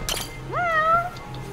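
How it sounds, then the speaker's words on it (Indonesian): A single drawn-out meow from a cat in the video game Judgment, clear and close, rising then holding steady over a quiet background. "ada kucing lagi"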